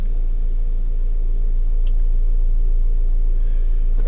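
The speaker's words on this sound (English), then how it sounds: "Alright, let's start the car." A 2013 VW Tiguan with a low-power fault idles steadily just after starting, a constant low engine rumble close by with no talking.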